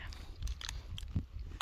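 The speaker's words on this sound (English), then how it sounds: "Just sitting here, enjoying our Doritos." Someone munching crunchy Doritos chips outdoors beside a lake on the John Muir Trail, with a few close, irregular crunching bites and chewing sounds.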